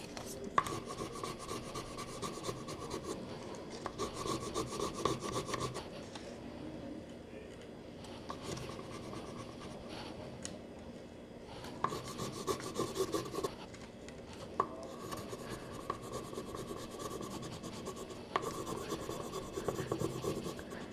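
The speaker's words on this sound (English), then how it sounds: "If you have a small piece of transfers stuck to the vinyl, you can put it back and rub it from there," Intermittent rubbing and scratching as a small vinyl transfer piece is pressed back onto vinyl, soft bursts of a few seconds each separated by quiet pauses.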